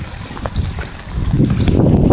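Rainwater rushes and gushes across a washed-out dirt drive beside a pasture, a steady close roar of flowing water with no voices.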